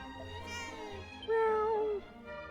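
A cat in Dragon Quest VII Reimagined gives one clear, drawn-out meow up close, preceded by softer mewing over steady game background music.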